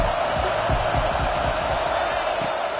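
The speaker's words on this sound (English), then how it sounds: "Decibels rising as the crowd gets behind this defense on third down." A stadium crowd at an American football game roars on third down, a dense, loud wash of cheering noise with faint rhythmic thumps underneath, sustained throughout without a break.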